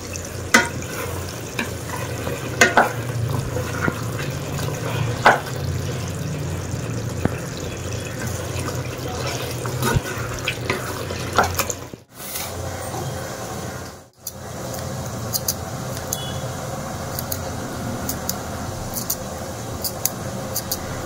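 Vegetables cooking in a pan hiss and sizzle steadily with faint stirring clatter throughout, broken by two brief quiet gaps.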